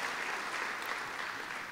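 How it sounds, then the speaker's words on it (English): An audience at the Hawaii Energy Conference 2019 claps together in a brief, steady burst of applause, fairly distant and sustained at an even level throughout, with no voices heard. "Please give them a big round of applause."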